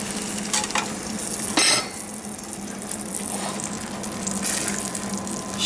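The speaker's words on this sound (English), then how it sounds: "Stir that in." Tomato and jus de veau are stirred into a chicken chasseur sauce in a hot pan, giving a steady close sizzle with stirring scrapes and a brief louder burst partway through.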